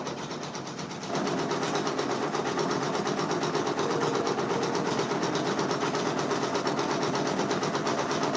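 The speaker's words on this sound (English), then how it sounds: "right now we are stitching out a Huey design from the Boondocks" An embroidery machine stitches out a Huey design from the Boondocks, a steady rapid mechanical whir that becomes louder and busier after the first second and continues evenly and close, with no talking.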